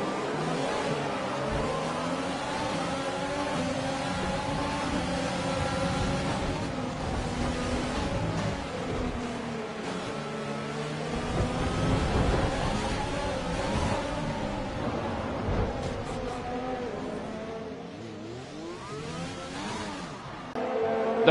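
Race cars lap Suzuka at the Japanese GP in a sim racing game, several engines revving and whining close together side by side, a continuous loud drone rising and falling through gear changes.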